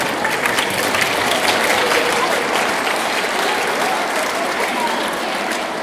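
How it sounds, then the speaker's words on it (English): An audience at a middle school awards ceremony applauds in a loud, thick, continuous wash of clapping. It holds steady from start to finish, with faint crowd voices mixed in. "Go ahead, you clap."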